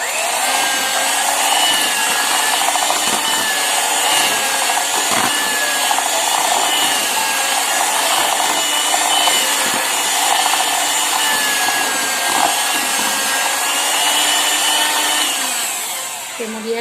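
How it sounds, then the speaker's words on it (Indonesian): A steady, continuous whir of an electric hand mixer running on low speed through nastar pastry dough with egg yolks added, loud and close, holding constant for the whole stretch before easing off at the end. "Kita mixer ya sebentar saja menggunakan speed rendah."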